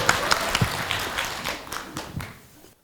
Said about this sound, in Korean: 우리 불의선회 선원장이신 월암 선원장 스님 큰 박수로 환영해 주시고